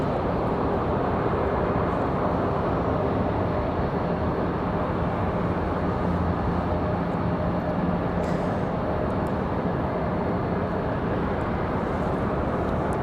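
Airliner departing Raleigh-Durham International bound for Portsmouth, a steady broadband jet roar holding at constant loudness throughout, distant and continuous with no voices.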